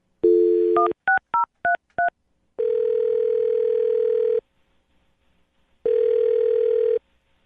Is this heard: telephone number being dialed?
yes